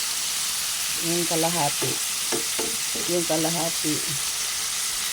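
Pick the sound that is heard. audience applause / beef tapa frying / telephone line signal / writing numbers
beef tapa frying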